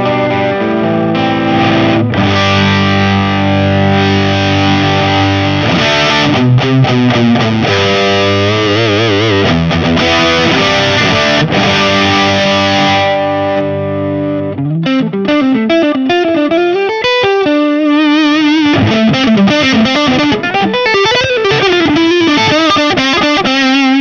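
Heavily distorted electric guitar through a TMiranda King-Drive high-gain distortion pedal plays loud sustained chords, then shifts to a thinner, wavering single-note line with chorus-like shimmer, no voices.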